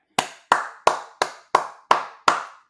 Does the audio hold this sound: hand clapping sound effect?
yes